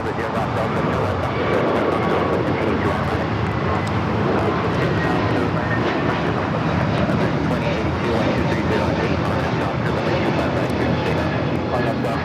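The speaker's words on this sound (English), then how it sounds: "this is JetBlue 424 taking off to JFK on the A321neo" A JetBlue Airbus A321neo airliner takes off from LAX in Los Angeles, bound for JFK, its engines making a loud, steady, broadband jet roar that holds for the whole stretch without fading.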